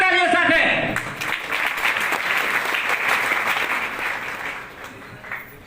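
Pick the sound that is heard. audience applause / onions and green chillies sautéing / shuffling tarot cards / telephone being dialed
audience applause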